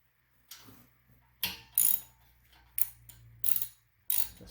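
Ratchet wrench clicking in short bursts while 12 mm bolts are tightened on a bracket of a 1978 Suzuki PE250 enduro dirt bike being restored, close and fairly quiet with pauses between strokes.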